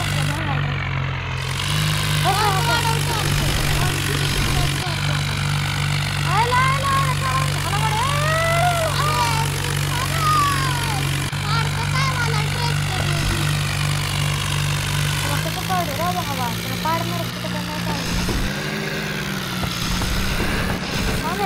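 A tractor engine in an Indian vehicle driving 3D game drones as a steady low hum throughout, with someone talking over it across the whole stretch.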